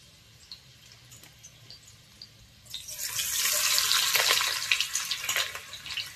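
Onions go into very hot oil in a pan for a spicy mutton masala, and after a quiet start a loud crackling sizzle bursts up and keeps spitting and hissing close by.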